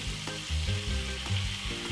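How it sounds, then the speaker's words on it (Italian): Cheese slices sizzle and crackle in hot sunflower oil in a small pan, a steady frying hiss with small bubbling pops, close by. "heated some sunflower oil in a small pan. She adds the cheese slices"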